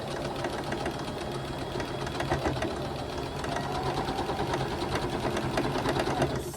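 A sewing machine stitches scrappy quilt fabric, running steadily across nested seams in a continuous close whir with small pauses and a rhythmic mechanical patter.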